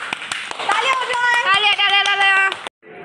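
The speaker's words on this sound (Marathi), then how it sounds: "टाळ्या." A small group claps in an uneven burst of sharp hand claps while voices call out and cheer over them at a casual treasure hunt event, ending abruptly.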